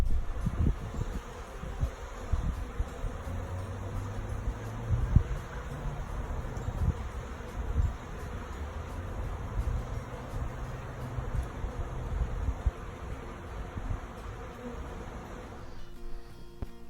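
A honey bee swarm buzzes in a backyard tree as a dense, continuous hum of many wings, with wind noise and faint rustling throughout and no voices.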